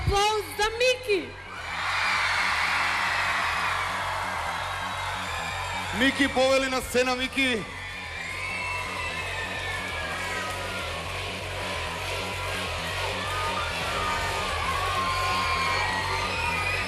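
At the Macedonian Idol final, the audience breaks into loud whoops, cheers and applause for finalist Miki. An announcer talks over the continuous crowd noise, and the cheering swells in bursts.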